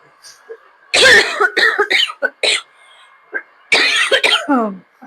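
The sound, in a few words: coughing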